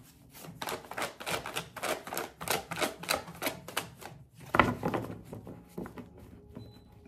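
Tarot cards are shuffled by hand in a run of sharp, rhythmic papery snaps and taps, fairly close and loud, pausing briefly before another burst.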